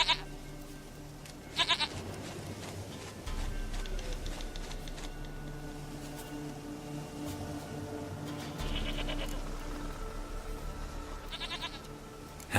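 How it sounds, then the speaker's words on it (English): A goat in the video game Witcher 3 bleats several times, short wavering cries spaced across the clip over a steady low game ambience. "Goat of mine, dearest, sweetest goat."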